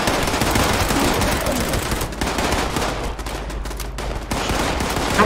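Sustained automatic gunfire from turrets in the video game Fallout 76 rattles continuously, loud and dense throughout, with brief dips in intensity.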